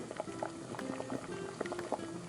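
Pointed gourd simmers in oil under a lid in a covered pan, giving soft continuous bubbling and gurgling with small pops, quiet and close.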